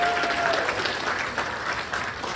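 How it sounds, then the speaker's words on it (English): Audience applauding teachers at a school STEM event, steady dense clapping throughout at an even level, close and fairly loud, with no talk over it. "let's go ahead and give those teachers a round of applause"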